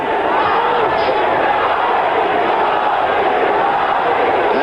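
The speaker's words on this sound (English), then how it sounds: "And you hear the crowd in unison chanting Ali, Ali." Dense boxing-arena crowd noise from Muhammad Ali's bout with Alfredo Evangelista, a steady, loud roar that may carry rhythmic chanting of Ali's name in unison, with an announcer's voice running over it.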